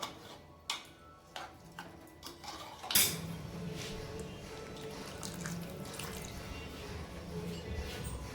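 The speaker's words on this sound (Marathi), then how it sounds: "मी भाताच्या वरती 1 खांडी बोटाच्या पाणी टाकणार आहे" Water poured over rice in a pressure cooker, a steady close splashing stream starting partway through with a sharp onset and continuing under light kitchen clatter.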